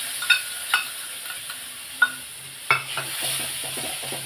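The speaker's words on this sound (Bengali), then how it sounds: "এবার আস্তে আস্তে এটাকে কষাবো।" Spices with a bay leaf frying slowly in a pan: a soft steady sizzle under a few sharp metallic clinks and scrapes of a spoon stirring, spaced irregularly, with no voices.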